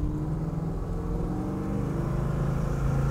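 A 1970 Chevrolet Nova with manual steering runs on the road, its engine giving a steady, close, low rumble that holds level throughout with no talk over it.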